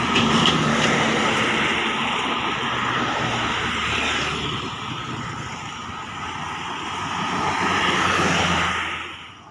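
A Villa Pane Putra intercity bus passes by, its heavy engine and tire roar loud and sustained, swelling again near the end before dropping away.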